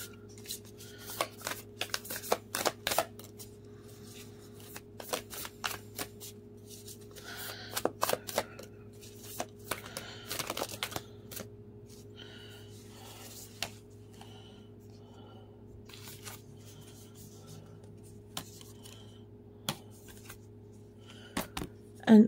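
A deck of cards is shuffled in quiet, scattered bursts of crisp riffles and sharp snaps, separated by pauses over a steady low hum.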